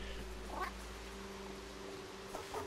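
A cat meows softly a couple of times in the video game Stray, set against a steady low humming game soundscape.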